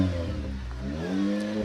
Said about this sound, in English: Honey, give the old Jeep a little rev.